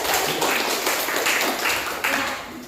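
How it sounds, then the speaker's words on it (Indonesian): A classroom of students clap their hands together, a brief flurry of close, lively clapping with uneven bursts that lasts a few seconds. "Oke, tepuk tangan."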